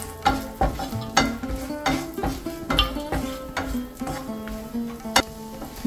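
Cashews, almonds and pistachios fry in hot ghee with a steady sizzle, broken by repeated scraping and clinking strokes of a spoon stirring them in a metal pan, close and fairly loud.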